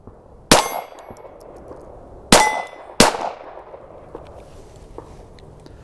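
An unsuppressed KelTec P17 pistol fires three sharp, loud shots with uneven spacing, each with a ringing metallic tail, followed by quiet when the gun jams.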